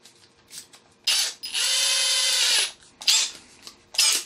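A Milwaukee M18 Fuel combi drill on speed 2 in drill mode bores into wood, with short bursts of whirring followed by one sustained run of about a second, then more brief spins, close and clear.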